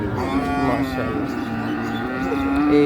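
A Holstein Friesian dairy cow at a cattle market gives a long, deep moo that lasts almost the whole clip. The call is close and strong, with low crowd noise underneath.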